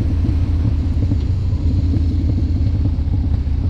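A deep, steady exhaust rumble at idle from a 2016 Harley-Davidson Dyna Street Bob with Vance and Hines long shot pipes, loud and close, with a low throbbing pulse and no voices.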